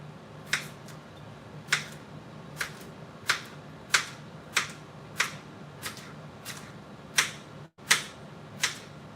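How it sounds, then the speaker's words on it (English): A knife cuts up a cucumber on a board with about a dozen sharp, crisp chops at a steady, unhurried rhythm, close and fairly quiet over a faint background hum. "Got to cut up the cucumber right now."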